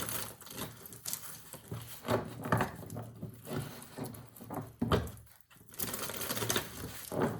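Tarot cards are shuffled close up with rapid, papery riffling and soft slaps that repeat in uneven bursts, moderately quiet, with no voices.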